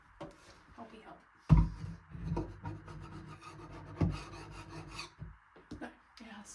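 A surface is scraped in uneven rasping strokes, with a couple of louder thuds and a faint voice murmuring underneath.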